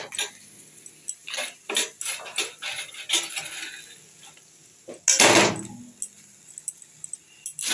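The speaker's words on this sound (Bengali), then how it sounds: "এবার আমি এখানে পরিমাণ মতন গুড় দিয়ে দিচ্ছি" Jaggery and grated coconut are stirred in a karai (wok) with a utensil. Sharp clinks and scrapes of metal on metal come in an irregular rhythm, close up, with one louder rattling burst partway through and no talking.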